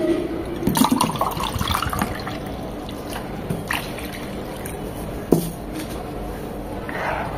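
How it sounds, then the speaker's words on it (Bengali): Two cups of room-temperature water being poured into a pot for Thai soup, a continuous splashing and gurgling pour with a few clinks against the pot and nobody talking. "দিয়ে দিব 2 কাপ পানি, নর্মাল টেম্পারেচারের পানি।"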